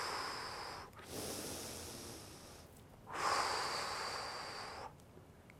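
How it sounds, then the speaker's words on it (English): Slow deep breaths during an exercise session: two long, breathy exhales through the mouth, each several seconds, separated by brief quiet inhales, close and fairly soft. "So you would inhale through the nose and exhale through the mouth."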